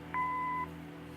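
A single steady electronic answering-machine beep in the Kathy Rain detective game, a clear two-tone pitch lasting about half a second over a low background hum, with no talk.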